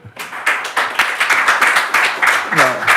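An applause sound effect plays on a sports talk show, a burst of crisp, close clapping that swells in rhythmic pulses, with a brief voice near the end.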